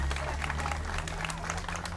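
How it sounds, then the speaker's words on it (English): An outdoor neighborhood crowd at a National Night Out community event in Roslindale applauds, a dense steady patter of clapping held at even loudness, with voices mixed in. "So how about giving this neighborhood a round of applause for the great work that you've done."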